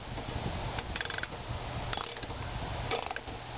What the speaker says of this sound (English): you can take your socket wrench or a screwdriver if you wish and